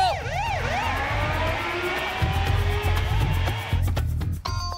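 An ambulance siren wails in rising and falling sweeps over a rumbling engine, loud and close as the vehicle pulls in, cutting off near the end with a few short tones, no voices.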